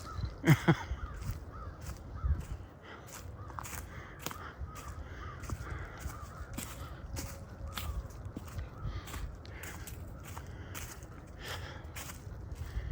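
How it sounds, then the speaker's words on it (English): Crows caw repeatedly in the distance, harsh calls scattered over a steady outdoor background with a few louder bursts near the start. "a bunch of crows."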